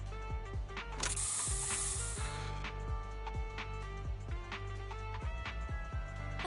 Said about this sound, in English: Have a taste of this special bamboo spray!